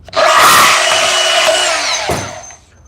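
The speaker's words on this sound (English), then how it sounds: "That's the difference when you guys use a bandsaw" A cordless bandsaw, set on speed 5 with a fully charged 5 amp hour battery, cuts through 3/4 inch electrical conduit in one loud, close, whining burst of just under two seconds before winding down.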